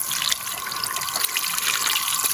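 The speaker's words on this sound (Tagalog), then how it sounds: "Lakas ng tubig." A strong mountain stream rushes and splashes near a camping spot by a historic pass, a bright, dense, continuous flow with no voices.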